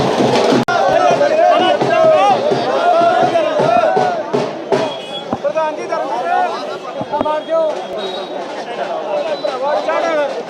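Dense crowd at Arjun Chautala's election roadshow, loud overlapping shouting and chanting voices with scattered clatter, continuous and close throughout.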